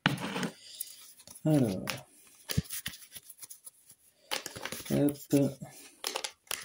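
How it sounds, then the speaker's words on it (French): Tarot cards are shuffled by hand in short bursts of crisp slapping and riffling, close and fairly quiet, with someone speaking softly in French between the shuffles. "je vais commencer comme d'habitude à mélanger les cartes"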